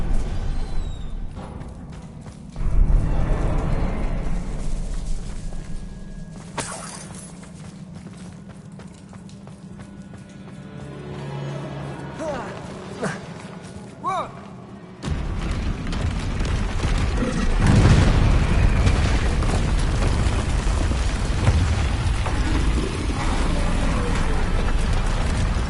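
Confringo blasting spell explosions in the Hogwarts Legacy game, several booming blasts and thuds amid game sound effects, with a louder, denser stretch of rumbling action in the second half.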